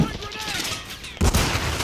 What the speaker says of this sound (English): somebody was shooting me from the right